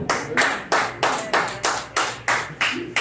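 Audience applause at a comedy show for a comic taking the stage: steady clapping from a crowd, rising in regular loud swells throughout, with no talk over it.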